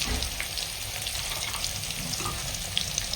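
A live koi fish curry with green banana and potato, cooked with spices in a pan, gives a constant close fry and sizzle while being stirred by hand, with light scattered clicks.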